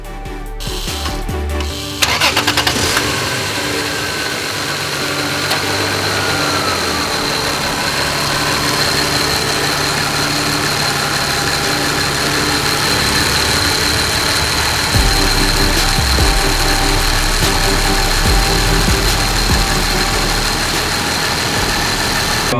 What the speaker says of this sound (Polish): Nowy olej mamy zalany. Odpalamy, sprawdzamy jak to chodzi.